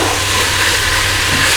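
Chicken and chorizo jambalaya ingredients sizzle steadily in a hot pan, a loud, close, continuous frying hiss with no talk.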